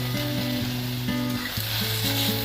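Chopped tomato sautéing in a pan with onion and chilli, a dense, steady sizzle close up with faint stirring underneath and no speech.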